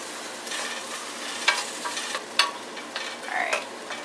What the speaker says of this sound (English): And then just give that a good mix.